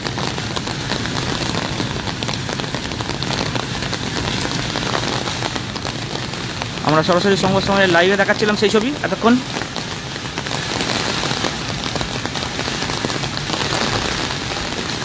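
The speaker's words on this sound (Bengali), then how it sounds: "মুষলধারায় বৃষ্টির সঙ্গে শিলাবৃষ্টি শুরু হয়।" Heavy rain with hail pours down across Arambagh during a storm: a dense, steady hiss of rain beating on surfaces throughout, with a news presenter speaking over it.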